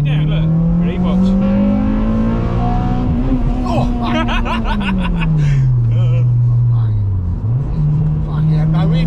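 Honda Civic EP3 engine revs hard in second gear, pitch climbing steadily then dropping and rising again, loud and close inside the car, with people talking and chuckling over it.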